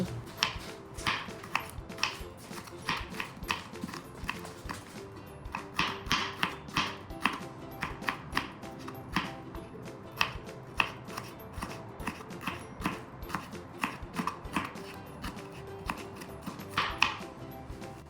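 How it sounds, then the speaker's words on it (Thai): Rapid, steady knife chopping of fingerroot on a wooden board, dense rhythmic strikes continuing throughout, close and clear with no talking. "ตามด้วยหั่นกระชาย"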